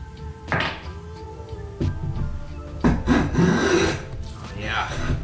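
A Lie-Nielsen scrub plane, bevel down and sole rubbed with paraffin wax, takes shavings from poplar in several close rasping strokes, each a coarse scraping push with a woody thunk at its start.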